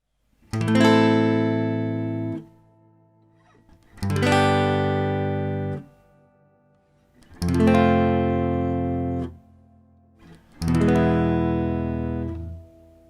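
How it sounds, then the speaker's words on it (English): Four strummed guitar barre chords, each left to ring for about two seconds and then muted abruptly into silence before the next. "Select each chord individually and just experiment with trying to cut the sound off cleanly"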